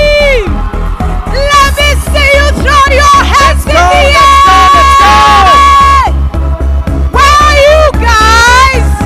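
A crowd at a university graduation ceremony cheers and whoops along with loud pop music, voices rising in sustained shouts over a steady pounding beat throughout.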